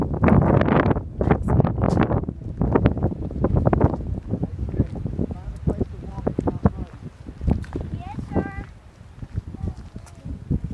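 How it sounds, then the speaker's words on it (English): Brisk mountain wind at the Continental Divide gusts and rumbles loudly against the microphone, with people talking over it nearby. "The wind is pretty brisk."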